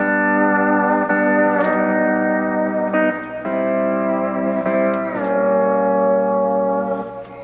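Sustained pedal steel guitar chords ring out in a slow passage, shifting harmony a few times with gliding changes, played alone without talk.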